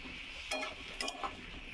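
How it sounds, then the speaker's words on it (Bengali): Potatoes and soya chunks, splashed with a little water, are stirred in a pan: a few quiet scraping strokes and soft clinks over a faint low sizzle, heard close. "এবার এটাকে ভালো করে নেড়ে নিচ্ছি।"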